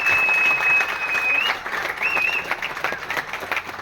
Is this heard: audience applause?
yes